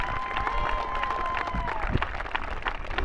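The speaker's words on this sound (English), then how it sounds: "Let's give him a round of applause." An outdoor crowd claps and cheers at a Little League opening day ceremony in Ashland. The applause is scattered and uneven, with some distant voices mixed in.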